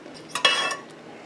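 Cheddar cheese stirred into homemade queso sauce, a short burst of a utensil clinking and scraping against the pot, close and brief.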